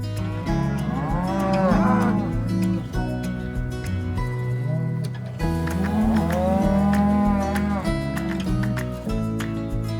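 Cattle on a snowy Wyoming ranch in winter calving season give repeated drawn-out moos, several overlapping calls rising and falling close by over a steady low rumble.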